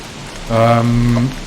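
Rain falls in Don't Starve Together as a steady, even hiss throughout. Midway, a brief humming tonal sound rises over it.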